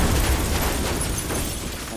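A sustained, rumbling explosion in the video game Metal Gear Solid V: The Phantom Pain, loud and dense with deep low-end roar, fading only slightly over two seconds.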